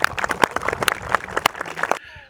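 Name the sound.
applause for the park owner's wife Ilona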